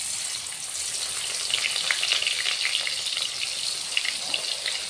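Bata fish frying in hot oil in a pan for a mustard fish curry, a steady close sizzle with crackling spits throughout and no talk.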